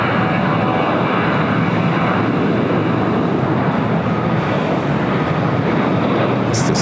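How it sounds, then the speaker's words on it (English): An airliner thunders down runway 25 Left at LAX on takeoff, a loud, steady engine roar with broadband rush holding constant throughout, heard close with no talking. "We'll have a takeoff on 25 left coming up."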